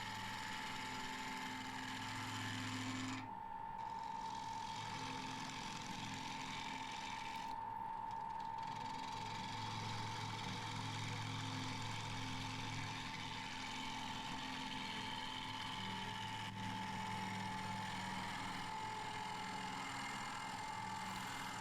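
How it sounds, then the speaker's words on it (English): A wood lathe spins steadily with a constant motor hum while a 40-40 gouge takes heavy cuts through a very wet, partly rotten oak bowl blank, giving a rough, continuous cutting noise close by and without talk. "You can see that 40-40 gouge taking absolutely massive cuts."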